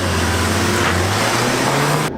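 A Subaru Outback with a 3.6-liter H6 engine and a VW Alltrack accelerate side by side in a drag race, a loud, steady engine drone rising slightly before cutting off abruptly.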